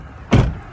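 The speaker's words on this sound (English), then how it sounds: "I just slammed the door shut." The rear door of a van slammed shut, a single loud close thud with a short rattle afterward, alone and nearby.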